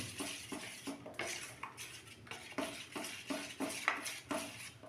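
Fish fry batter with baking soda being mixed in a bowl, a run of quick rhythmic clinks and scrapes of a spoon against the bowl, close and moderately quiet, with no talk.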